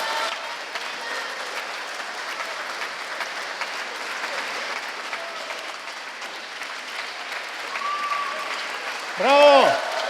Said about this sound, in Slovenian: dajmo en močen aplavz